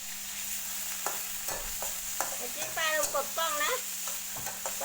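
Minced pork with garlic stir-fried in a pan for broccoli stir-fry, a steady close sizzle with scraping stirs, while someone talks over it.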